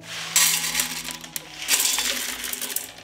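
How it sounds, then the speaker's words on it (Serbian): Washed white beans pour into a pot in two bright, rattling bursts, the dry pattering of many small beans against metal with a short pause between. "Opran pasulj sipam u šerpu."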